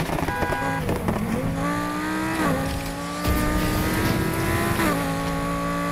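An Audi race car in Need for Speed Heat revs hard through a long curve, its engine note climbing and shifting steadily with faint tire squeal, loud and continuous.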